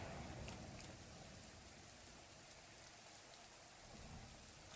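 Soft, steady rainfall in the Zelda: Tears of the Kingdom game world, a quiet continuous patter of drops with a faint low rumble underneath.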